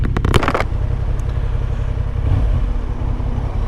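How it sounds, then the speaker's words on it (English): Road traffic heard from a Honda Hornet 750 motorcycle ride, a steady low rumble of engines and passing vehicles with a brief clattering burst at the start, continuous and fairly loud. "Look at this traffic."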